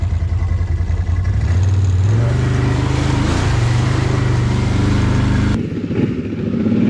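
Four-wheel-drive vehicle crawling over rough off-road trail, engine droning and rising in pitch as it revs, with rattles and clatter from the body, loud and close, then cutting off abruptly near the end.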